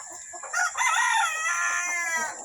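A broadstag gamefowl rooster gives one loud, close crow that rises and then holds in a drawn-out, strained call.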